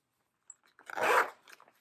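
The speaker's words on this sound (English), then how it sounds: "there's floss stuck in the zipper" A short zipper pull on a cheap project bag with embroidery floss stuck in the teeth, one quick rasping drag that snags and stutters near the microphone, alone with no talking.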